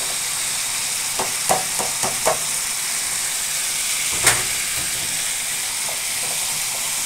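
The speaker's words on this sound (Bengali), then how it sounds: "একটুখানি ভাজা হয়ে গেলে মোচাটা সিদ্ধ করা আছে, সিদ্ধ করা মোচাটা এবার দিয়ে দেবো।" Boiled banana flower is fried in a pan, a steady loud hiss of sizzling with a few sharp clinks and scrapes as it is stirred, close and continuous with no talk.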